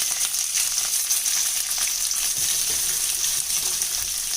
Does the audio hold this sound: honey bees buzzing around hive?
no